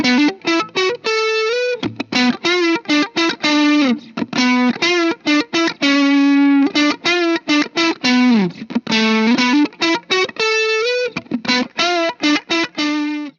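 Electric guitar played through a distortion pedal into a Vox AC15 amp, with tone set low and distortion moderate, picking a fast, choppy melodic riff of short, gritty, sustained notes with brief gaps, loud and up close.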